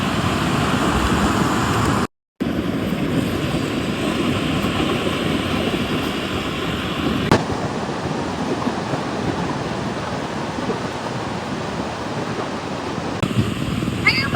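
Sea waves wash onto the shore at Kuakata beach in a constant, loud broadband roar, with faint voices in the background.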